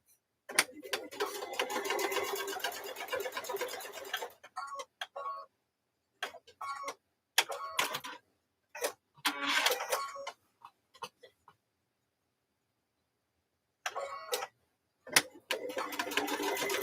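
A sewing machine stitches lines across a mug rug, its needle running in fast rhythmic bursts that start and stop repeatedly, with short pauses and quiet gaps between runs.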